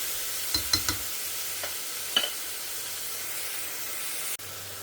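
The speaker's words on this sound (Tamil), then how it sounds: "அதுக்கப்புறமா தக்காளி, தக்காளி நல்லா வதங்கணும்." Tomatoes sauté in a pan for rasam, with a steady sizzling hiss and a few light clinks from a utensil near the start.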